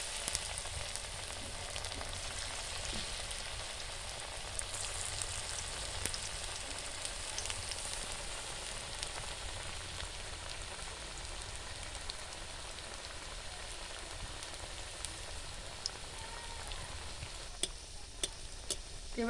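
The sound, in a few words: breakfast snacks frying in hot oil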